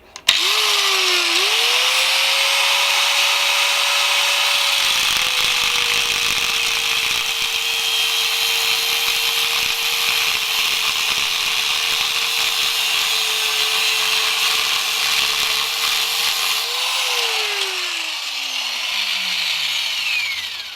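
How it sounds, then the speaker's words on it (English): Angle grinder with a cutting disc slicing around a weld on a motorcycle exhaust, a Triumph Scrambler 1200 or 900 de-cat job: a loud, steady high whine held for about fifteen seconds, then winding down as the disc spins to a stop. "that's cut all the way around there with the cutting disc"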